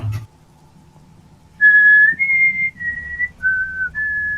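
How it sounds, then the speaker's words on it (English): A person whistling a short tune of five clear sustained notes that step up and down in pitch, close and fairly loud against a quiet background. "And you can't help but whistle in response."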